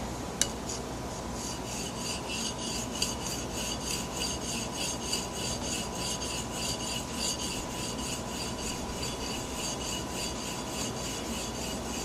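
A steady, close rasping rub of a Harbor Freight #33 plane iron being honed on a sharpening stone, with rhythmic strokes continuing for the whole stretch and no talking.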